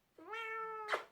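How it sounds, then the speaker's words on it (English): A pet cat lets out one clear, drawn-out meow close by, rising and holding steady before ending in a short breathy burst, with no talk over it. "Oh my god, that's my cat."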